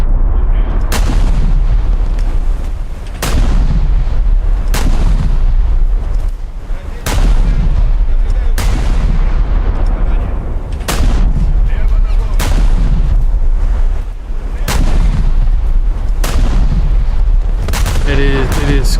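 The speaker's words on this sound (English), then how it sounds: "There's just a destroyer shooting at me." Destroyer guns firing in a naval warship video game; loud, heavy booming shots repeating every second or two, each with a sharp crack and rolling decay, over continuous low engine rumble.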